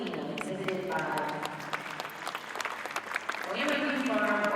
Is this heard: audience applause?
yes